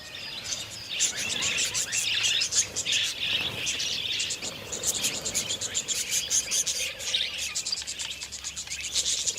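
Wild budgies chirp and twitter nonstop at an Australian riverbank during courtship season, a dense, bright flock chorus with insects buzzing underneath.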